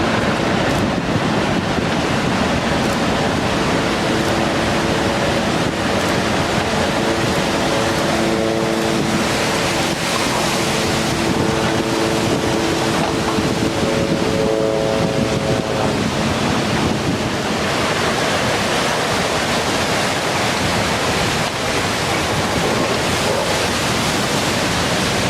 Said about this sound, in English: In shallow water, these waves can surge to heights of up to 50 meters.